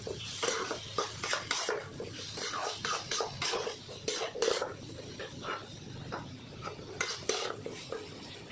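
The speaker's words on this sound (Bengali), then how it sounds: "এখন সবগুলো মশলা দিয়ে একসাথে কষিয়ে নিই এটাকে।" Spices stir-fried together with taro in a pan for kochur torkari, a Bengali vegetarian taro curry, with a spoon scraping and clinking against the pot in a steady rhythm over a soft sizzle, close and moderately loud.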